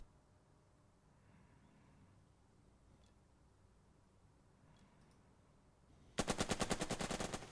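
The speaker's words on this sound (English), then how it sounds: "Shoot at this officer with your MG." Machine gun fire in the WWII strategy game Burden of Command, set in Sicily, breaks out late as a loud, rapid string of evenly spaced bursts after several seconds of quiet ambient rumble.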